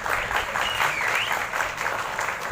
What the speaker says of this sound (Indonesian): Tepuk tangan juga untuk Dewan Guru.